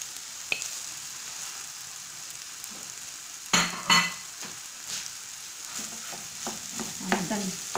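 Kofta minced meat is added to a pan and fries with a steady background sizzle, marked by a sharp knock early on, louder utensil clatter midway and repeated stirring scrapes toward the end.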